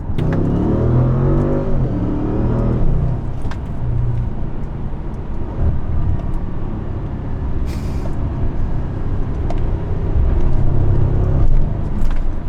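Muffled engine drone heard from inside the cabin of an Audi C7 S6/S7 fitted with a 034 Motorsport X-pipe exhaust, rising and falling as it revs, with a brief hiss partway through.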